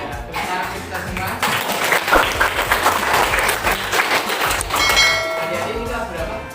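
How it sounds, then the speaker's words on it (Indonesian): Students of a junior high class clap together during a school meeting, a steady mid-loud burst of clapping with some rhythmic claps and background voices, lasting the whole stretch. "Tepuk tangan kita semua."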